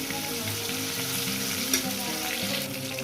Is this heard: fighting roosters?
no